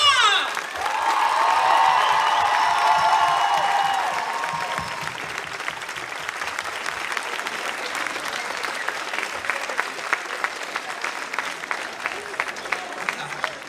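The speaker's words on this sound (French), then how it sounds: "Je vous demande un tonnerre d'applaudissements pour tout ça!" Convention audience at a cosplay show, children among them, bursting into loud sustained applause with cheers and whoops that gradually thins into scattered clapping.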